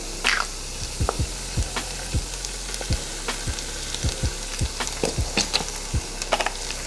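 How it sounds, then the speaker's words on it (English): Onions, garlic and Italian herb paste frying in a pan make a steady close sizzle, broken by repeated soft stirring taps of a utensil at an irregular rhythm, with no voices. "So once those onions get a head start, we're going in with some garlic and Italian herb paste."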